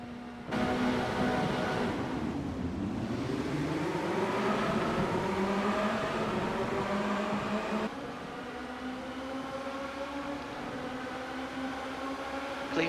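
Formula Renault race cars in iRacing at Road America, engines droning steadily together at the race start, with pitch sweeping upward as they accelerate away, and no voices over it.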